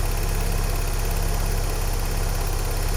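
A car engine idles steadily just after a cold start. It gives a smooth, even mid-to-low hum that stays close and constant, with no obvious tapping and no voices.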